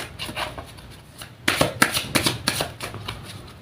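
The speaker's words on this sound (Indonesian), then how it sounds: "Langsung saja saya shuffle kartunya" Tarot cards are shuffled by hand, a soft riffle at first, then a run of crisp, rapid flicks and slaps close by.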